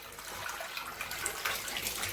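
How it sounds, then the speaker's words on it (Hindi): Cooked dal with plenty of water is poured into a hot tempering in a home kitchen, a brief, steady rushing gush of liquid heard up close. "तो अब यहाँ पे जाएगी दाल।"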